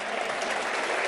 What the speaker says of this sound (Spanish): aplaudamos también a Adrián Rabier